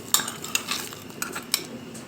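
A spoon clinks against a pot while meatball soup with bell pepper is stirred after boiling water is added, giving several light, sharp scrapes and taps in an otherwise quiet kitchen.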